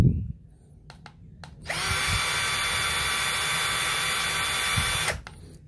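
Dongcheng DCJZ1202i cordless drill running at gear 1 speed, starting after a few quiet clicks, then holding a loud, steady high whine for about three seconds before stopping abruptly.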